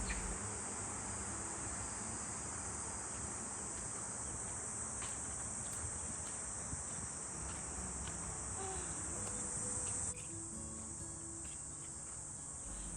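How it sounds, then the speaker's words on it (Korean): Cicadas buzz in a dense, unbroken high-pitched drone at a summer forest campsite, filling the air steadily, then easing slightly toward the end. "매미 소리와 자연 소리에 깰 수밖에 없습니다"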